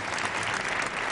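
A crowd at a ceremony for the king applauds in a brief, dense burst of clapping, steady and moderately loud.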